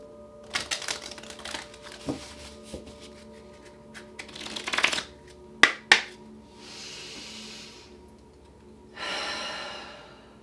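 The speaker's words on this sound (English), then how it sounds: "Last shuffle." Tarot cards shuffled by hand in several quick riffling bursts, close and crisp, with soft rustles and light taps between them and a longer smooth shuffle near the end.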